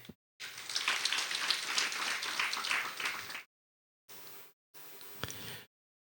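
An audience claps at a Lakshchandi Mahayagna in Barumal, Gujarat, a long dense burst of hands followed by two shorter fainter rounds separated by silence.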